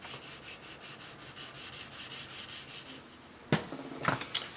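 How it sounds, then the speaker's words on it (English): Wet sanding on the painted body of a Peavey Patriot guitar, a steady run of rhythmic rubbing strokes, close and moderately quiet, ending in a couple of sharper knocks and scrapes. "That could only be wet sanding"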